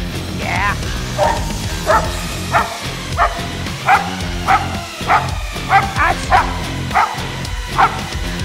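A protection dog barks repeatedly during a training session, loud and close, a steady series of sharp bow-wow barks and yips roughly every second, with a person shouting over them.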